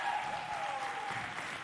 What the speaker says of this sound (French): Est-ce qu'on peut l'applaudir comme une reine?